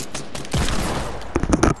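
Gunfire in a one-on-one PC shooter match, a burst of rapid shots followed by a few sharp cracks near the end, close and loud with no talk.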